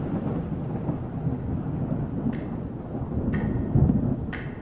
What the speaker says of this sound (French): on va avoir un bruit d'orage qui va revenir aussi au niveau des textes